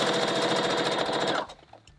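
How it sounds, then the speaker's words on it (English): Sewing machine topstitching an inseam on a narrow sleeve or pant leg, a fast steady mechanical needle chatter running loud and close, then stopping abruptly near the end, followed by faint handling sounds. "the sewing machine does its thing"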